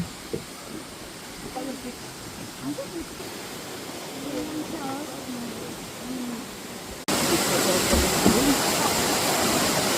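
Waterfall at the Hantangang river in Pocheon, a steady broadband roar of falling water that grows louder and closer partway through, with faint calls over the rushing.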